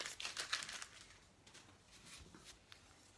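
Painter's tape peeled away from a freshly painted buffalo plaid pattern, giving a crinkling, tearing rustle that is loudest in the first second, then softer intermittent crackles and strips pulling off.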